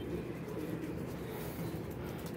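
Soft, low cooing of a kunda pigeon repeats steadily through the clip against a constant background hum, with no talking.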